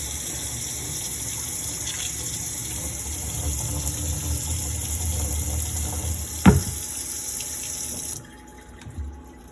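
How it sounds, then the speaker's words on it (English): Rinse water poured out of a pot of washed rice into a kitchen sink, a steady close gush that runs for several seconds, then stops abruptly with a brief clunk and quiet afterward. "So I'm just going to pour the rest of this water out"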